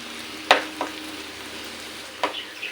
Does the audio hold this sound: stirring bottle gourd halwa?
yes